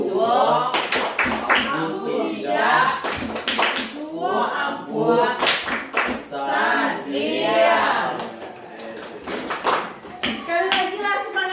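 Children in a classroom doing tepuk clapping routines, loud chanted call-and-response voices punctuated by sharp bursts of group hand claps in quick rhythmic patterns.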